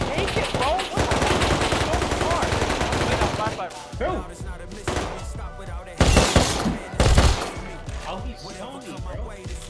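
Rapid bursts of AK rifle fire in a survival video game, dense and loud for the first four seconds, then scattered shots and two sharp louder bursts near six and seven seconds.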